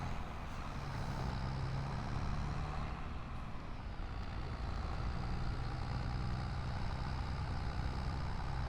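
Tractor engine idling in the Farming Simulator game, an old John Deere: a steady low rumbling drone that holds evenly throughout, close and continuous with no talk over it.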